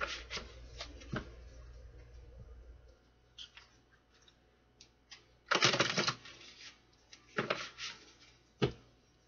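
Oracle cards being shuffled close up, in bursts of riffling and flicking with short pauses between, no voices.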